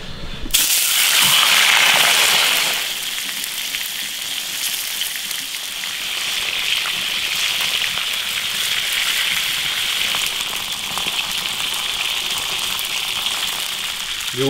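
Fish frying in hot oil in a wok gives a loud, steady hiss that is strongest in the opening seconds, then settles into a softer, continuous sizzle.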